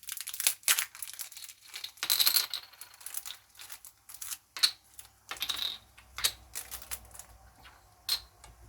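A package of badges being opened by hand, with sharp crinkles, rustles and small clicks in irregular bursts, close and fairly loud against a quiet room, with no one speaking.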